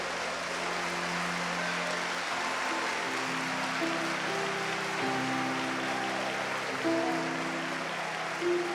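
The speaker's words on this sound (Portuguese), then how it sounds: "Vamos dar um aplauso ao Senhor" A church congregation at a Sunday morning service applauds, a soft wash of clapping blended with sustained musical tones running underneath throughout.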